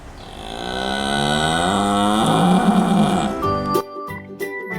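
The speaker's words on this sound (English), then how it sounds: "You're a red heifer, huh?" A red heifer on a farm lets out one long, loud, close moo that rises and falls before trailing off into rustling and scattered farm noise.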